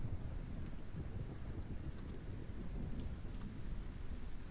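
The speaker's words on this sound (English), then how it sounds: "Poor girl had to eject in the middle of a thunderstorm." Thunderstorm in Kerbal Space Program, a steady dense roar of rain and wind with low rumbling thunder throughout, loud and continuous with no talk.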